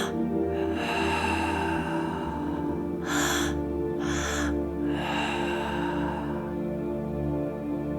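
Slow, deep breathwork, with long drawn inhales and exhales rising and falling over a sustained low musical drone, a couple of sharper breath bursts in the middle.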